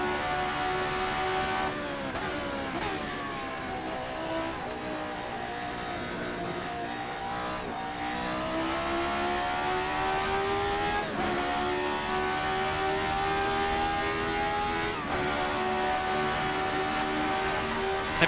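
A 40-year-old RSS Formula 79 ground-effect race car in a racing video game gives a loud, high-pitched engine howl. It revs up through the gears in repeated rising sweeps, and brief drops at each shift break up the sustained scream. No voices.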